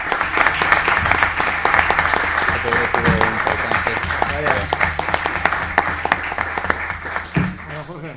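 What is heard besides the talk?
applause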